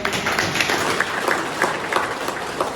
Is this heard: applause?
yes